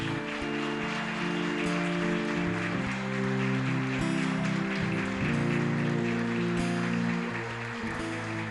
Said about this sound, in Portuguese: Mais uma forte salva de palmas.